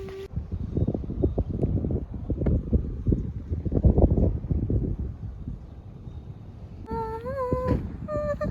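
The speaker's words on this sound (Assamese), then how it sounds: "বতাহ বলি আছে পুৰা ৰিভাৰ সাইডত" Wind blows along a riverside near Garigaon, Guwahati, buffeting the microphone in gusty low rumbles, with a brief high warbling tone near the end.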